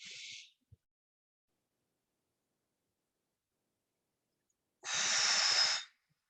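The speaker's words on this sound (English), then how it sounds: "Try to continue the box breathing." During a box breathing exercise, a short breath is heard, then a long silent hold, then a second steady breath of about a second, soft and close.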